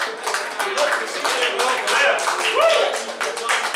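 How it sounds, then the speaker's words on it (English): An open mic audience in a lounge applauds a performer, a lively, close round of hand clapping with cheering voices mixed in throughout. "Applause for Cliff up here."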